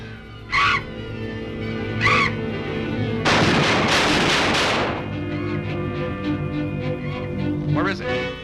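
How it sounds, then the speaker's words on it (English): Gunshots fired at a giant bat in a 1940 horror film, a burst of loud broadband blasts lasting a couple of seconds amid a dense, busy soundtrack, with short bright cries before and after. "Quick, shoot it!"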